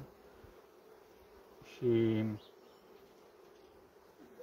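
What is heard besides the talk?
honey bees buzzing around a honey frame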